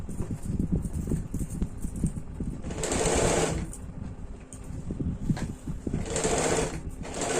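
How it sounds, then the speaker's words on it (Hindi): Sewing machine stitching a neck strip on a deep-neck kurti, close rapid mechanical clatter in quick bursts with short pauses between runs. "अब पट्टी में चाप सिलाई डाल देंगे।"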